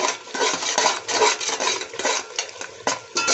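Spices for chana pulao are lightly roasted in a pot, with a spoon scraping and clinking against the metal in quick, uneven strokes, close and fairly loud.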